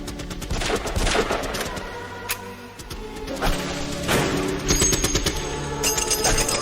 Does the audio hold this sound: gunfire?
yes